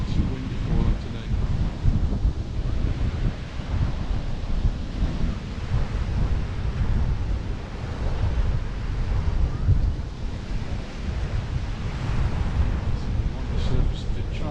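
Strong wind buffets the microphone at Cala Ratjada beach in Mallorca while surf rolls and crashes steadily, a continuous loud roar of waves and gusts throughout.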